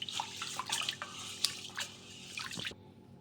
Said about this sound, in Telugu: ఇప్పుడు ఈ నీళ్ళన్నీ కూడా వంపేసుకుందాం